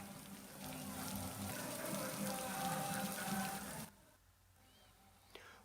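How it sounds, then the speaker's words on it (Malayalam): Heavy rain at Irinjalakuda, around the Koodalmanikyam temple area, hisses loud and steady for about four seconds and then cuts off to near quiet. "വേനൽ ചൂടിന് ആശ്വാസമായി ഇരിഞ്ഞാലക്കുടയിൽ കനത്ത മഴ"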